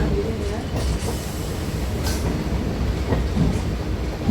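A Chennai local train on the Attipattu Pudhu Nagar to Chennai Beach line rumbles steadily toward a platform, a constant heavy wheel roar with faint rattles and clacks throughout.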